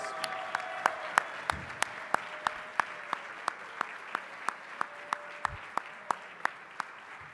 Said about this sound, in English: let's give a round of applause for all of the candidates.